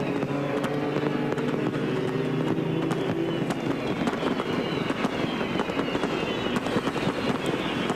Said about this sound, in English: Ryan Hunter-Reay wins the Iowa Corn Indy 250 at Iowa Speedway as the fireworks go off